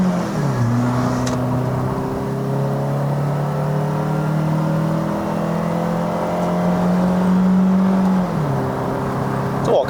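A modified Perodua Bezza 1.3L Advance sedan accelerates hard in a 0-100 run, its engine note climbing steadily in pitch for several seconds before a brief dip at a gear change, loud and close from inside the cabin.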